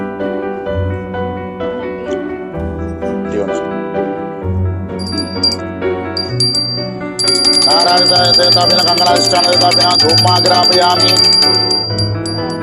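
A small brass hand bell rings continuously during a Ganesh puja, bright and metallic, sitting over steady devotional music and becoming louder and denser in the second half.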